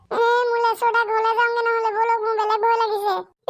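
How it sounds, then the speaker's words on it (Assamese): A jackal in an Assamese comedy cartoon lets out a drawn-out, wavering, tonal howl that rises and dips for about three seconds, loud and close, with short breaks between phrases. "ক'ৰবাত শিয়ালে চিঞৰিছে?"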